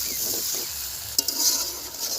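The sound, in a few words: sautéing elephant foot yam with prawns and salt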